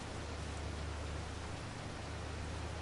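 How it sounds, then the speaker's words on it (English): Steady rain falls in a farming video game during a sugar beet harvest, a constant even hiss with a low rumble beneath it, no voices. "Ah, now it's starting to rain."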